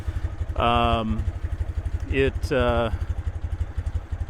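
A 1968 BMW R60/2 motorcycle idles steadily close by with a fast, even engine pulse. Someone speaks briefly over it, and a few other tonal sounds rise above the engine.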